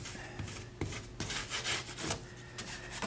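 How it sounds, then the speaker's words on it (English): Soft, repeated rubbing strokes as the folded edge of a book cover is pressed down during the rebinding of an old book, quiet and close, with a steady back-and-forth rhythm. "fold it right up to the edge and rub it down"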